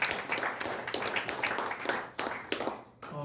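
Audience applause at an academic conference for the 74th anniversary of the founding of the Republic of Korea, welcoming a presenter. Scattered claps come in bursts alongside a murmuring crowd and fade near the end.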